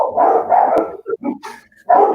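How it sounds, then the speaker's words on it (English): A big dog, a Rottweiler, barks repeatedly at close range in an indoor podcast setting, several loud separate woofs with short gaps between them. "Sounds like a big dog, though."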